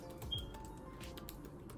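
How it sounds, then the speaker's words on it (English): Typing on a Mac keyboard indoors: faint, scattered key clicks in short irregular bursts over a low room hum, with no talking. "I'm just gonna type."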